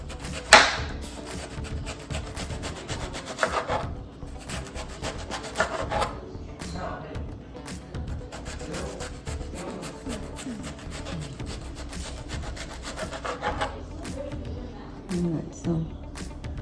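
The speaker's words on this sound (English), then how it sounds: "you want to cut it along here to get those real nice thin slices" Knife slicing a cabbage into thin slices for a Jamaican-style salad, with repeated rasping cuts and soft thuds on a board, moderately close and fairly quiet.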